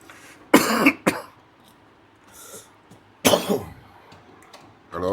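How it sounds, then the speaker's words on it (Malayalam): A person with a cold coughs in two sharp, close bursts a few seconds apart, with softer throat clearing in between and a final rising cough, indoors with no talking. "ജലദോഷമായെന്ന് തോന്നുന്നു, ചുമ പിടിച്ചു."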